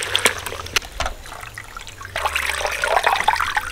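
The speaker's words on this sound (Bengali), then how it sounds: "আর এই জলের মধ্যে ধনেপাতাগুলো ভালো করে দিয়ে চটকে চটকে ধুয়ে নেব।" Coriander leaves are squeezed and swished by hand in a bowl of water, giving close sloshing and dripping splashes in irregular bursts, growing busier toward the end.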